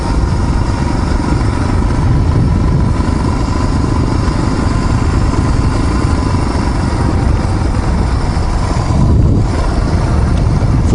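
A small moped engine drones steadily and loudly up close while riding along the Otay Mountain truck trail, with wind buffeting throughout.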